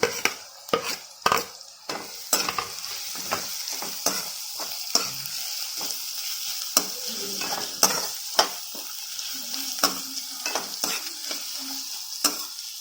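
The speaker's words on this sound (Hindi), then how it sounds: "इसे भी अच्छी तरह से फ्राई करना है" Chopped capsicum frying in a pan for chicken Manchurian, a steady close sizzle broken by repeated sharp scrapes and clanks of a spatula stirring against the metal.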